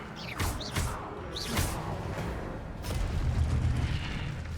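Spellcasting in the video game Hogwarts Legacy: a sharp magical whoosh and burst of impacts in quick succession, followed by rumbling combat effects that settle into a low, busy wash.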